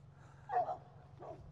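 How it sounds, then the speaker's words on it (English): A dog barks trackside at Nortonville, Kentucky, with one sharp bark followed by a second fainter one, both moderately distant over a low steady background hum. "complete with barking dogs"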